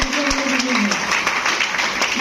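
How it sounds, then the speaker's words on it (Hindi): Meeting audience in Patna breaking into loud applause, a dense wash of clapping filling the room while a voice speaks over it briefly at the start. "एक जोरदार ताली"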